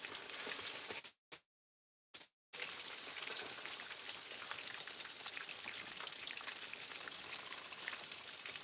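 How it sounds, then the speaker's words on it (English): Snapper fish frying in oil outdoors over coal, a dense steady sizzle and crackle, briefly cut to silence near the start before resuming loud and continuous. "So we're frying fish outdoor."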